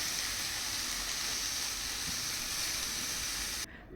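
Chopped spinach dropped onto spices frying in a pan for a winter dal, giving a steady, close hiss and sizzle that stops abruptly near the end, with no talking.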